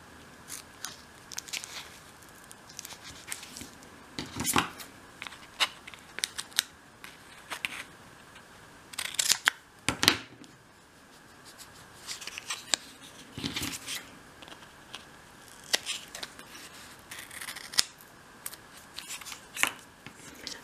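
Scissors snip fabric for a 1/12th-scale dolls house chair, a series of sharp, close, irregular cuts with quiet rustling between them.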